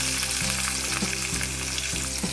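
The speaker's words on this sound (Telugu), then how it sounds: "ఆయిల్ వేడాక జీలకర్ర ఆవాలు వేసుకుందాం. ఇప్పుడు ఆనియన్స్ వేసుకుందాం" Onions, cumin seeds and mustard seeds fry in hot oil with a steady, close sizzle, broken by a few soft stirring knocks and scrapes.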